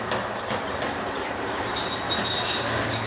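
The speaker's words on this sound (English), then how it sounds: "they have toy trains going around here" Toy trains run around a track inside the historic Rock Island 905 train depot in Duncan, Oklahoma, giving a steady rolling rumble with faint wheel squeal throughout, no talking.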